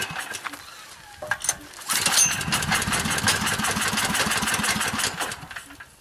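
A small engine fed by wood gas from a homemade gasifier catches after a few sputters, then runs with a steady, fast chugging idle at close range before tailing off slightly.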